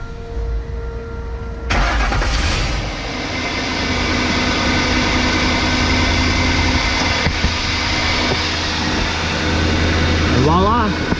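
A Ford Expedition engine cranks and starts, then idles steadily with a new serpentine belt running and no squeal, a loud continuous hum with some rattling near the end.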